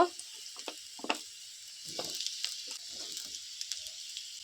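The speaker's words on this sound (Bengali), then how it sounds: "রসুন দিয়ে দিলাম এবার এটাকে আমি হালকাভাবে নেড়ে নিব এবার আমি আলু দিয়ে দেব" Garlic fries in a pan for a Malabar spinach and red lentil dish, with potatoes being added, giving a steady close sizzling hiss throughout, broken by irregular spatula scrapes and taps as it is lightly stirred; no talking.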